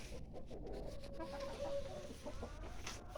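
Adler and Australorp hens cluck softly in an enclosed coop, a low steady murmur of birds with faint background noise and no talking.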